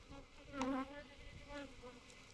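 A honey bee swarm buzzes steadily and close, a dense droning hum that swells louder in brief surges, with no voices over it.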